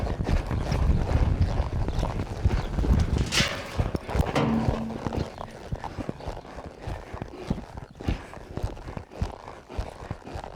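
A hot, high-energy 3-year-old barrel horse is eased through a barrel pattern, its hoofbeats thudding in a loose, uneven rhythm under steady wind noise, with no talk.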